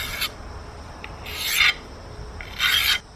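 A blade is drawn across a DMT Diafold diamond sharpener in three distinct rasping strokes, each a bright gritty scrape separated by short near-silent gaps, close and clear.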